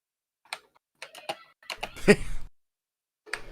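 Computer keyboard typing in short scattered bursts of clicks, some single taps and a brief busier cluster with a low thump, close and fairly quiet with gaps of silence between.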